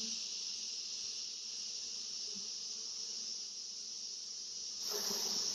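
A steady, high-pitched hum of honeybees around a hive drones continuously, close and even, with a faint rustle and a brighter hiss rising near the end.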